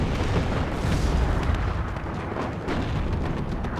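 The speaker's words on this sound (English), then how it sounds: "Here comes the artillery." Artillery barrage in the Cold War strategy game Warno, a dense continuous roar of booming, rumbling detonations filling the whole stretch, loud and close with no voices.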